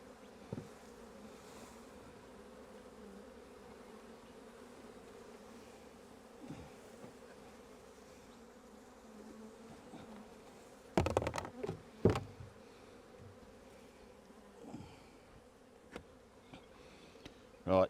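Honey bees hum steadily around an open hive at an apiary, a dense continuous buzz with a few louder clatters and knocks of frames and tools partway through.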